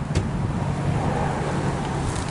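A Nissan 350Z fitted with a Nismo kit and its 3.5-litre 280 hp V6 runs with a loud, steady, close-up low rumble, with no voices over it.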